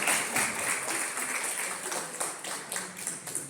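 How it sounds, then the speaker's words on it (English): A modest audience at a civic association candidates' meeting gives a candidate a round of applause, soft scattered clapping of moderate density that continues steadily and tapers slightly, recorded at a distance. "Okay, round of applause,"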